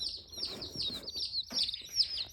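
Baby chicks and ducklings peep in a close, busy chorus of high, shrill calls, with repeated rising cheeps overlapping one another.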